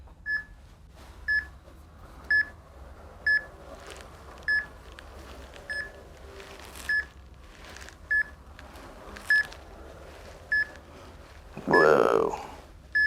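A concussion test headset gives a regular series of short, high electronic beeps about once a second, clear and close in a quiet room, ending with a brief burst of other sound.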